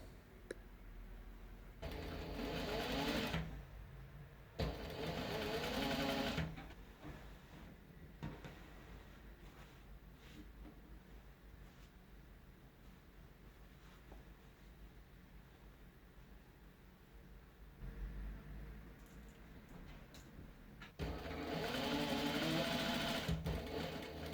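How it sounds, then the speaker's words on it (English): A domestic sewing machine stitches two shirt collars together in bursts: several loud rapid whirring runs of the needle separated by quieter stretches of fabric handling, nearby and with no talking. "I usually like to start by sewing the two collars together, and then sewing down the center fronts."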